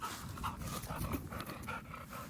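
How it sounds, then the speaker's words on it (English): A dog panting quickly during a duck hunt, soft rapid breaths with faint whimpers, close and alone, no talking. "This dog loves it."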